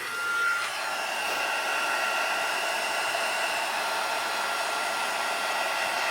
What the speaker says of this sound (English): We're going to go ahead and heat emboss this real quick.